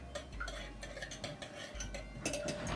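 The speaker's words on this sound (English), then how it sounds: "So I'm gonna scoop this all and then I'm gonna mix it." A utensil stirring a homemade hand sanitizer of alcohol and aloe vera in a bowl, with soft repeated scraping and clinking at a steady pace, close and fairly quiet.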